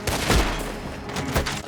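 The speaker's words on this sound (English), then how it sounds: "I've shot his hat off." Gunfire from the video game Red Dead Redemption 2, with two sharp, loud shots about a second apart and a rumbling echo trailing after each.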